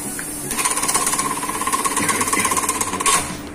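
A Juki LK-1900BN industrial sewing machine stitches from the corner of a piece, its rapid needle hammering a fast, even mechanical rhythm for about three seconds before stopping. It is heard close up and with no talking.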